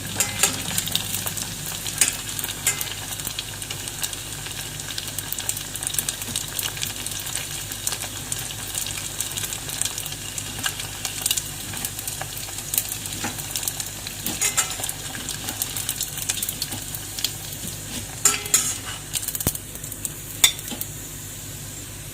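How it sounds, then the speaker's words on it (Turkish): Içli köfte, stuffed bulgur meatballs, fry in hot oil with a steady, close sizzle and crackle, broken by occasional light clinks of a utensil against the pan. No one speaks. "Biraz daha kızarmasını bekliyorum."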